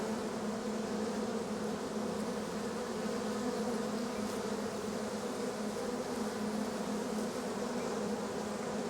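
Bees buzz at a hive entrance in a dense, continuous hum of many wings, steady and fairly quiet, with no voices present.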